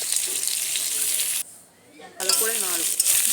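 Ginger garlic paste sizzling in hot oil for a prawn dish, a loud steady frying hiss that drops out briefly and then returns with bubbling crackle.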